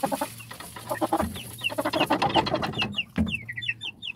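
Hens cluck repeatedly in a backyard coop while being fed ration, with short, fairly close calls overlapping in an irregular rhythm and no talking.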